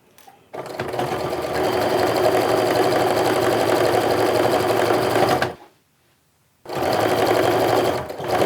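A sewing machine runs loudly and close as it stitches quilt pieces along a seam, one long steady whir, a short silent pause, then another burst of stitching.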